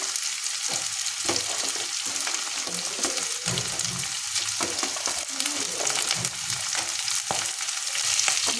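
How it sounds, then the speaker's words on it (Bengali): Chopped onion sizzles and fries steadily in hot oil for an amodi fish curry, with a dense continuous crackle punctuated by occasional stirring scrapes, fairly close and with no talking. "এবার দিয়ে দেবো পেঁয়াজ কুচি"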